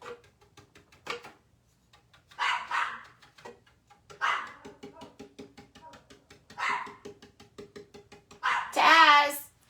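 A dog barks in several loud bursts spaced a few seconds apart, the last one the strongest, with light handling noise and quiet knocking between barks in an indoor setting.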